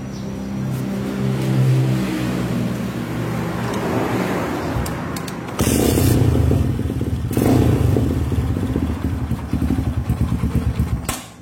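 A motorcycle engine is kick-started and catches, then runs loudly nearby. Its rough idle turns into a rapid, steady chugging beat before it suddenly cuts off at the end.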